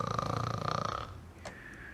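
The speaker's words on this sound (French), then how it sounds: "C'est juste ton père qui ronfle." A father snores loudly and close by in a video game's cartoon night scene, a rumbling, wheezing snore for about a second before it fades into quiet, with a short sharp noise after it.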